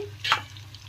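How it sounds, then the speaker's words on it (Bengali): Chicken kebab pieces sizzle in a hot pan, a steady close frying hiss with one brief louder crackle as pieces are turned, no voices. "বন্ধুরা এরকম ভালোভাবে দু সাইড লাল লাল করে উল্টে পাল্টে ভেজে নেবেন।"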